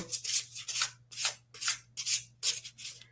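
Paper tarot cards from the Emerald Papyrus deck being shuffled, a run of about eight soft, papery riffles in a loose rhythm, close and alone.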